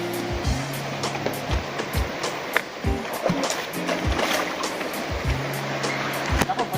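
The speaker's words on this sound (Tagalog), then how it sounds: "Ngayon ay tatawid naman tayo ng ilog papunta sa bahay ni Tatalino." Steady rushing river water fills the scene during a river crossing, a broad continuous wash with intermittent low knocks and bumps breaking through.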